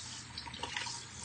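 Hot water pours into a Blendtec 575 blender jar, a brief steady splashing rush with small gurgles, close and unaccompanied by talk.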